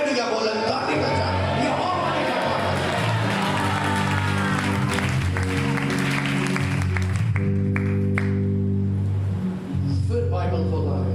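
A church congregation claps together in a dense burst of applause over sustained keyboard-like tones, then the clapping thins out near the end while the tones carry on.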